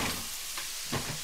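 Green chillies fry in a pan for egg curry, a soft steady sizzle with a couple of brief stirring scrapes, quiet and close with no voices.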